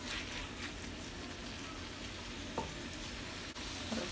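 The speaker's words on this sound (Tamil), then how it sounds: "பாருங்க சிஸ்லிங் சிக்கன் அப்படி ரெடி ஆகிட்டு" Sizzling chilli chicken fries and is stirred in a hot pan. A continuous crackling sizzle runs throughout, broken by occasional soft scrapes from the stirring.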